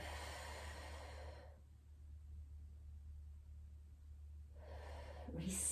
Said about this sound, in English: Breathing with it